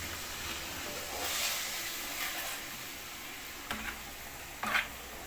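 Water poured into a hot pan of fish with tomatoes makes a steady, fairly faint hiss and steam, with a couple of brief sharper bursts of spatter near the end.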